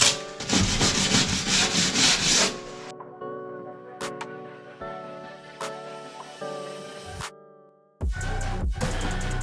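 An angle grinder sands loudly against a painted surface in rough bursts, pausing briefly in between, with tonal motor whine and occasional sharp clicks.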